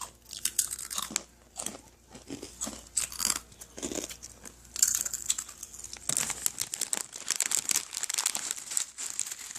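Crunchy Korean snacks being eaten, with crinkling packaging and crisp bites and chewing, close and uneven in short bursts without talking.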